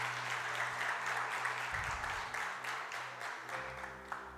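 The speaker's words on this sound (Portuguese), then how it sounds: "dar uma salva de palmas para Jesus daquelas" Applause from a church congregation during a sermon, a steady wash of many hands clapping that carries on for several seconds with no voices over it.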